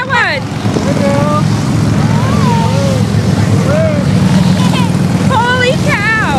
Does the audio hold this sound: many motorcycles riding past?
yes